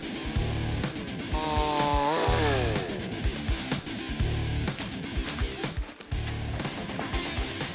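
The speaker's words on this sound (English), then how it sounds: "we chopped it up into pieces using the chainsaw" A chainsaw saws a fallen gum tree into firewood pieces: a loud, close engine snarl that revs and drops repeatedly, with one pitch-sweeping rev in the middle, nearly continuous throughout.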